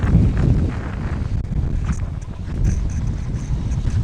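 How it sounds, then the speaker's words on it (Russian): Wind blows across a hay field with cut windrows, a steady low rumbling rush buffeting the microphone throughout, with no voices. "Может, немножко будет ветер задувать сегодня"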